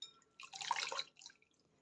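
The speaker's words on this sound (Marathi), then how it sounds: "हे आता व्यवस्थित आपण धुवून घेणार आहे परत एका पाण्याने" Cut bitter gourd is rinsed in water, producing a brief, soft burst of splashing and dripping that fades into quiet.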